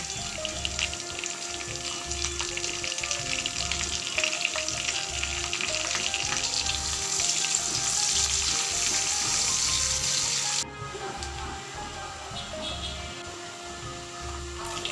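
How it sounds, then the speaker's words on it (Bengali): Chopped garlic and onion frying in oil in a pan, a steady loud sizzle that runs throughout, with occasional stirring and the hiss dropping back a little toward the end. "বড় সাইজের দুটো কুচনো রসুন বড় সাইজের দুটো কুচনো পেঁয়াজ দিয়ে ভালো করে লালচে করে ভেজে নেব"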